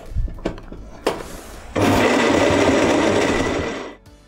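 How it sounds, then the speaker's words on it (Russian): An electric kitchen blender whirs loudly and steadily for about two seconds, blending a beetroot, banana and milk smoothie, after a few clunks and taps as ingredients go in, then winds down and stops. "Все это взбиваем на блендере."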